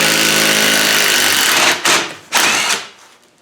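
A power tool working a bolt on a seat during a Ghana seat restoration, loud and close, with a sustained whirring burst that breaks into two shorter pulses before fading.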